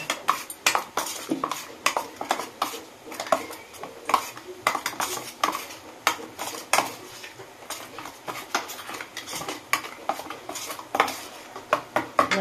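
A spoon scrapes and clinks steadily against a bowl as ingredients are mixed with mustard oil for a prawn bhapa, a close, busy run of small metallic taps and scrapes with no talking.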